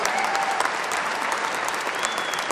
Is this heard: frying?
no